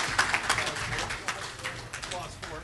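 Audience applause at a conference session, a steady patter of clapping hands under some chatter and movement, moderately loud throughout.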